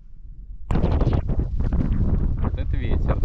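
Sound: strong wind

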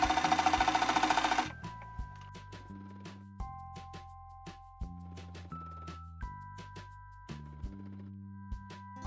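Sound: sewing machine stitching a folded skirt hem

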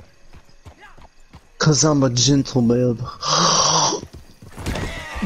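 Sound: horse hooves, horse hitting stump in video game

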